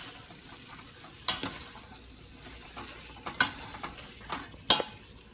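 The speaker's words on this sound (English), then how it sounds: "Okay, so we're gonna stir this around." Food frying in a pan is stirred, with a soft sizzle underneath and several sharp utensil scrapes and knocks against the pan.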